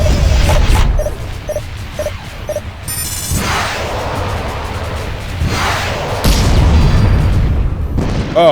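Missiles exploding against the Hathor warship in the space combat game Freespace 2, a run of loud booming blasts and rumbling crashes that swell and fade over a steady engine drone.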